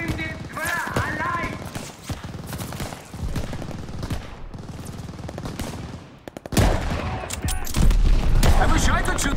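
Sustained automatic and rifle gunfire in the Stalingrad campaign of Call of Duty: Vanguard, dense rattling volleys and sharp cracks that swell loudly near the end, mixed with shouting voices.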